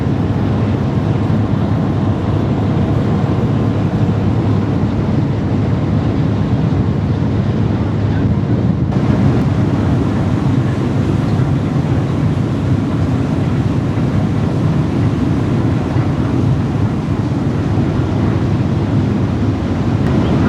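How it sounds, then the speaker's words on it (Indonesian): Strong wind buffets the outdoor deck of a ferry crossing toward Phu Quoc, a loud, constant low roar battering the microphone, with the boat's rumble and sea wash underneath and no clear speech. "benar-benar sangat kenceng anginnya"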